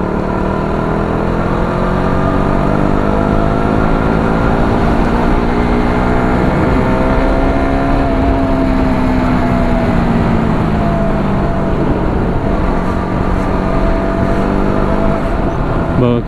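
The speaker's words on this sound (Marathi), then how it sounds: "बघा किती गाड्या येतात कंटिन्यू" Steady stream of vehicles arriving at Bhimashankar temple, with continuous loud engine drone and passing motor tones, including rising and falling engine pitches from cars and motorbikes close by, under faint crowd murmur.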